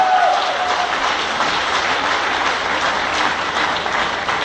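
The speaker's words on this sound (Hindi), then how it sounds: "एक जबरदस्त तालियां दोस्तों।" A large audience claps loudly and steadily at a celebration honouring a couple, a dense, continuous wash of applause from start to finish with no talking.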